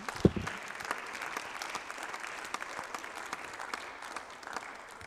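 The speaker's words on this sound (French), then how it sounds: "On les applaudit." An audience at a conference-debate on antisemitism applauds the speakers, a steady close patter of many hands clapping with a few sharper individual claps standing out.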